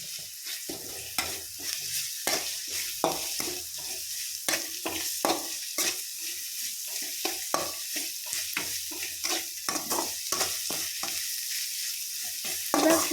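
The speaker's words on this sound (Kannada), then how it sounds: "ಶುಂಠಿ ಬೆಳ್ಳುಳ್ಳಿ ಪೇಸ್ಟ್ ಹಾಕ್ಕೊಂಡು ಅದು ಹಸಿ ವಾಸನೆ ಹೋಗೋ ತನಕ ಫ್ರೈ ಮಾಡ್ಕೊಳ್ಳಿ" Ginger garlic paste fries in a pan for a spinach masala rice dish, a constant close sizzle overlaid with quick, repeated spatula scrapes and taps as it is stirred continuously.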